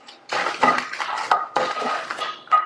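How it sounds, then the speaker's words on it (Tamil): Dried red chillies roasting in oil in a pan on a medium flame, with loud, close scraping and clinking of a metal spoon against the pan in repeated strokes and no talk. "இதை மிதமான தீயில வச்சு வறுத்துக்கங்க"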